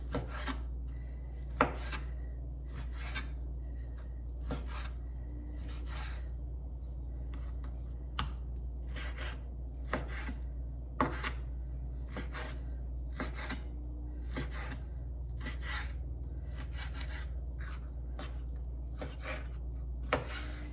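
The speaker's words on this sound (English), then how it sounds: "So I'm just gonna cut this up into chunks." Knife chopping raw chicken breast into chunks on a board, a steady run of sharp, close cuts at an uneven rhythm over a low constant hum, with no talking.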